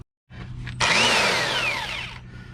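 An impact gun with a 32 mm socket loosens the wheel hub nut on a 2006 Nissan Pathfinder 4.0 SE spindle knuckle assembly: after a short pause, a loud, close, rattling whine runs for about a second and a half, then cuts off.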